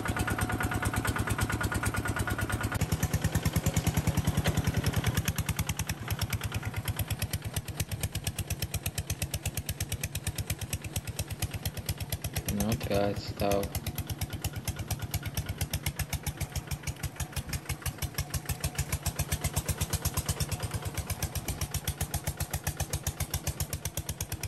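Japanese walk-behind tractor working in Vietnam, its small single-cylinder engine chugging in a fast, steady rhythmic pulse close by throughout, with a brief louder surge midway.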